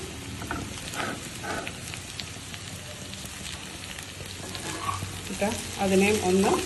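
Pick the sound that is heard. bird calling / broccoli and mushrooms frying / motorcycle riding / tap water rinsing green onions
broccoli and mushrooms frying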